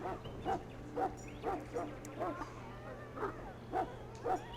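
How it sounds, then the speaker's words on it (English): A Mabari hound in the game Dragon Age barks repeatedly in a steady rhythm, about nine sharp woofs spaced roughly half a second apart, moderately close over a low background hum. "I love that you can hear the dog barking in the background the whole time he's talking."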